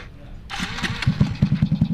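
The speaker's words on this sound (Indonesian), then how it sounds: "Wah, itulah tadi suaranya ya. Jadi, dia bisa starter." A motorized BMX bike's small engine is cranked and catches, settling into a rapid, loud putter close by, with a voice briefly audible before it fires.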